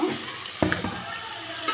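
Fried pointed gourd and potato are tossed into spices in a pan, making a quiet, continuous sizzle with a few soft scraping stir knocks close by, no voices.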